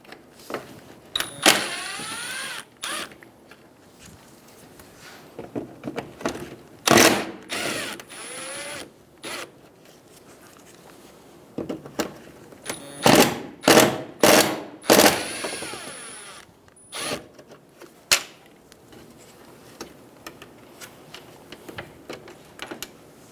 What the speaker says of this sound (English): Using a Phillips head screwdriver, remove the 4 screws for the grille.